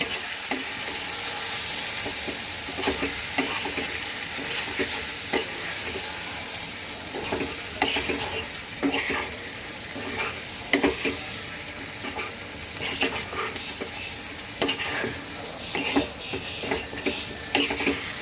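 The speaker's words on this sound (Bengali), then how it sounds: "এখন এটাকে সুন্দর করে কষাবো" Potato, pointed gourd and cauliflower with salt, turmeric and coriander powder sauté in a pan, a continuous close sizzle broken by repeated scraping stirs of a spoon, with no voices.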